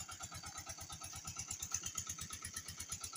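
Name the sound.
engine running at a gold mine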